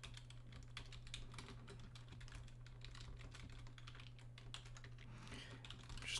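Fast, steady typing on a computer keyboard, with close, crisp key clicks in a continuous stream over a quiet background hum.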